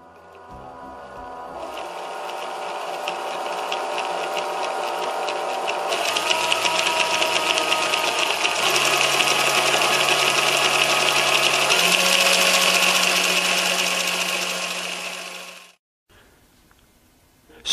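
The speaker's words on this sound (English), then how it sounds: "Can you see the different rates of rotation in these gears?" Meshing spur gears of different sizes turn steadily in a mechanical gear system, giving a continuous whirring, clattering drone at close range whose pitch steps up in stages before cutting off near the end.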